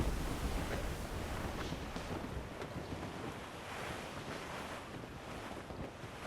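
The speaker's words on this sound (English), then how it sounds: "That wind's trouble, Captain Cormac." Wind and ocean waves at sea aboard a sailing ship in the video game Assassin's Creed Rogue, a steady, loud roar of gusting wind and surf washing continuously without voices.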